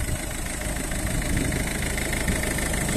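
A 2008 silver Ford Focus with a 1.6 TDCi diesel engine, recently serviced and with a new cam belt and water pump, idles steadily with a dense, even clatter and hum, close up and alone.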